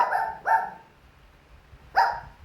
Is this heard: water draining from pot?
no